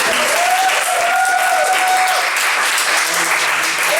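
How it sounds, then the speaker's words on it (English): A stand-up comedy crowd at a pub comedy night applauds loudly and continuously, a dense wash of clapping close by with a faint tonal hum running underneath. "I reckon that we can just keep on that applause going"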